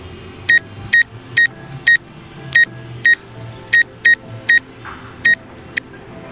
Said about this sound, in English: the sensor is starting to beep because I'm too close